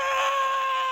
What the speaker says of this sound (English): It's just a scream.